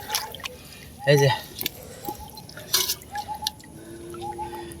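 Water drips and splashes intermittently as freshly caught river fish, including small puti, are rinsed, with a voice speaking briefly between the drops.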